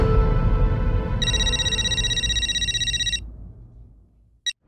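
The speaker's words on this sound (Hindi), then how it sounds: "भिड़े भाई को फोन करके बताना ही पड़ेगा।" A telephone rings in a Hindi TV sitcom household scene: a bright electronic ring holds for about two seconds over a low background bed, then cuts off, with a tiny blip near the end.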